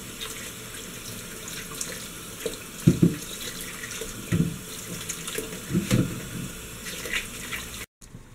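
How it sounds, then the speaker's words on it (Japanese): Rakkyo shallots washed by hand under a running kitchen tap, a steady close stream of water broken by several louder splashing bursts as the bulbs are rubbed, with no voices. "お水で洗うと皮が、古い皮が取れてきれいになります。"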